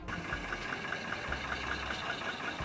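An early Rolls-Royce car engine idles with a soft, regular ticking knock over a low hum, steady and moderately close.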